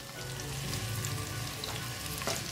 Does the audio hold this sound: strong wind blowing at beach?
no